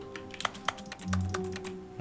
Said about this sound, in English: Why does it make keyboard sounds?